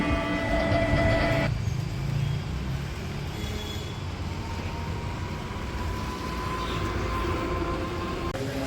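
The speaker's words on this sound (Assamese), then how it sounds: "এখন ৰেল আহে" A moving train heard from inside, a steady loud rumble with rolling wheel noise that dips slightly then holds even, with no one talking.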